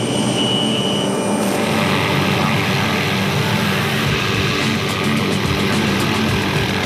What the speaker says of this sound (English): maneuver the chopper as close as he can